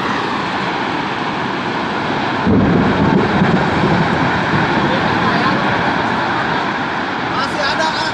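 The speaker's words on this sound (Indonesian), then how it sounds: "Angin puting beliung di Kahatek" A tornado at Kahatek on the Sumedang-Bandung border roars as loud, continuous wind rumble, swelling stronger partway through, with people speaking over it.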